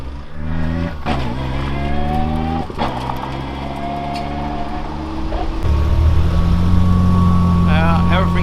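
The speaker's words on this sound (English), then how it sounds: "it made like a bit of funny noise and drove off" A car just repaired after a broken propshaft drives off around a yard with a steady engine note that grows louder and rougher toward the end, while people talk over it.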